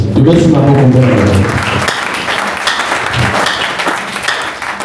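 A church congregation at a Sunday worship service bursts into applause, steady crowd clapping mixed with voices, loud and close, after a preacher's sung or spoken line at the start.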